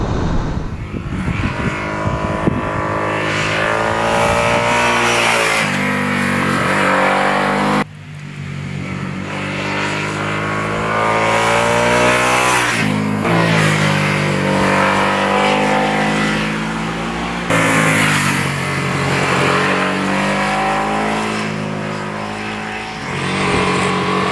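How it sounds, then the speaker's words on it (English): A 2022 Harley-Davidson Nightster's engine revs repeatedly, climbing to high-pitched whines and dropping back, loud and close, in several rising bursts. "So these are revvy little engines"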